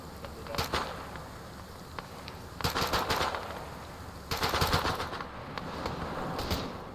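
Gunfire in a video game battle, rapid bursts of shots in several clusters over a steady background, moderately loud, with voices faintly in the mix.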